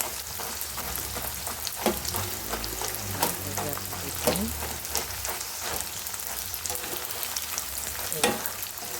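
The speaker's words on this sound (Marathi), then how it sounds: "तर हे बघा हे मस्तपैकी आता इथं तळले गेलेले" Edible gum for laddoos fries in hot oil, a dense crackling sizzle with frequent sharp pops and bubbling, close up and steady throughout.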